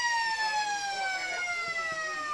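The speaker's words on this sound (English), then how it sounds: "takes the mark, and quarter time siren goes" A long, steady siren sounds for quarter time at a Riverina Australian football match between the Lions and the Hoppers, loud and sustained with a slowly falling pitch while a commentator talks over it.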